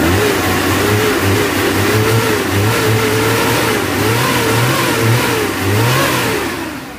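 A 1984 Suzuki Jimny 4x4 engine, running cold, revving repeatedly from idle, the pitch climbing and falling in several loud, close surges with a steady rumble beneath and no talking.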